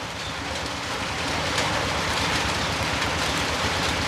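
Steady rain falls outdoors during a solar light installation, a dense continuous hiss and patter close by that swells slightly louder partway through, with no voices.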